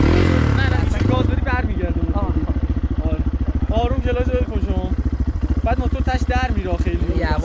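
A motorcycle ridden slowly on the clutch by a beginner putters along with a steady low engine pulse, while a voice talks over it close by.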